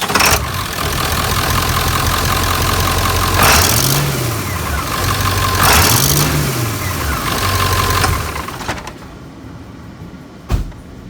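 A 1994–97 Ford 7.3 Powerstroke diesel engine cranks up and runs loudly and close for about eight seconds, revving up twice with rising whines, then shuts off. A short knock follows.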